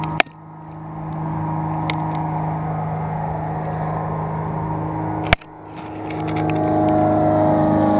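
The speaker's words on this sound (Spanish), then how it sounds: "Avión." An airplane passes overhead above a river where someone is fishing, a steady distant droning hum that swells and holds, broken by two sharp nearby clicks; no one talks.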